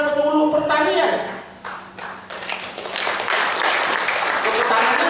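Indonesian lecture audience bursting into applause, a dense wash of clapping that dips briefly, then swells again and holds steady and loud, with a voice talking over the start.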